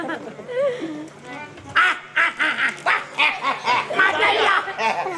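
A dog barks in a series of loud, close yaps with an irregular rhythm, mixed with voices talking nearby.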